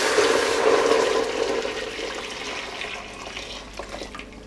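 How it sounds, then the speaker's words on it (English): A whole kettle of boiled water, about 8 to 10 cups, pours steadily into a pot of chicken biryani rice, a loud continuous splashing gush that gradually eases off over a few seconds. "to that I'm going to add, which I completely forgot again guys, to tell you, a whole kettle of boiled water"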